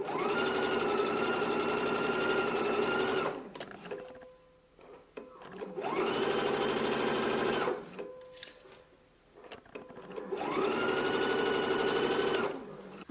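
A sewing machine stitches fabric along the top edge and down the front opening of a garment facing, running in three long, steady bursts separated by short pauses.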